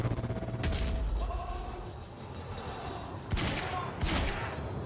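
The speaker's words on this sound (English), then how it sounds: "He's got a gun! Open fire!" Dense game gunfire from Quantum Break fills the stretch as a continuous fusillade of overlapping shots, with two sharper, louder bursts standing out near the end amid the noisy battle mix.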